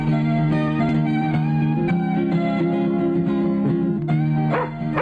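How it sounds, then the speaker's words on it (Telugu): A large dog barks in a Telugu film scene, with a few short barks and yips over a loud, sustained musical background. "ఇంత పెద్ద కుక్కని తెస్తే ఎలా చెప్పండి?"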